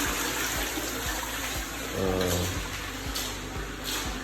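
A WC toilet in a rented room flushes with a continuous rush of water and a steady pulsing churn, fairly close and unaccompanied by speech.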